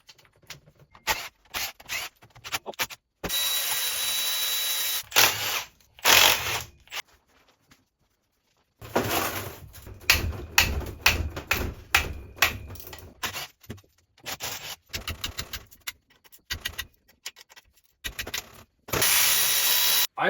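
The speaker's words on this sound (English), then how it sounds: "I'm gonna proceed to drop all these outer case bolts" Power tool spinning out outer case bolts on a Subaru TR690/TR580 CVT, close whirring bursts of varying length separated by pauses and small clicks.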